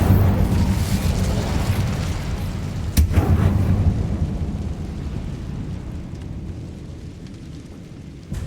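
Incendio fire spell from a Harry Potter video game: a loud, sustained roaring blast with a sharp crack partway through, fading slowly into a rumbling tail, with no voices.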